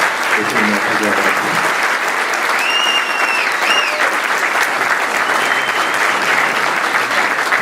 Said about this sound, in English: I'd like a round of applause for Larry for putting that together.